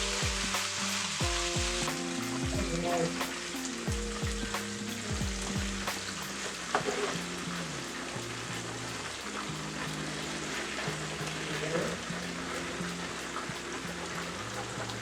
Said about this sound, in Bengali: তো পটলটা ভাজা হয়ে গেল, নিচ্ছি।